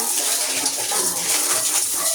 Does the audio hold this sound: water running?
yes